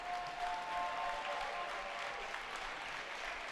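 Crowd at the 2020 ECC wrestling championship applauding steadily after a hard-fought match, a dense, sustained clapping that fills the arena without talk.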